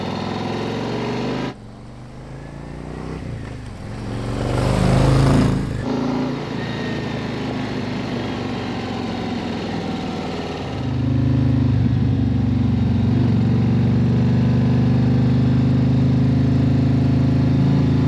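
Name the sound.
motorcycle exhaust while riding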